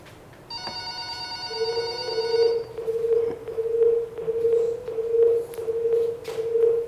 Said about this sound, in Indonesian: Padahal ada telepon yang masuk.